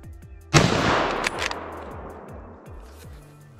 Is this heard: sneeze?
no